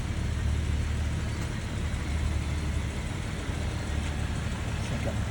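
A 2004 Jeep Grand Cherokee 4x4 with the 4.0L engine idling, a steady low rumble held at an even level throughout, heard from nearby with no speech over it.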